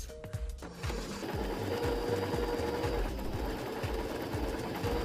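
A sewing machine runs a seam along a garment's lining, starting after a short quiet moment and then holding a close, rapid, evenly rhythmic stitching clatter to the end.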